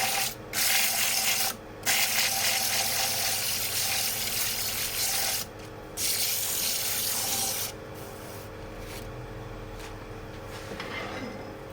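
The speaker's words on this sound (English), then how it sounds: "It's much easier just to use sandpaper" Sandpaper held against a chestnut bowl spinning on a wood lathe gives a loud, continuous hissing rasp over the lathe's hum, breaking off briefly several times and then easing to a softer whir.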